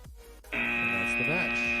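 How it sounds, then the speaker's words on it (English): An electronic end-of-match chime sounds at a VEX robotics competition, a sustained buzzy tone that cuts in loudly over arena noise and a voice. "Here comes the chime."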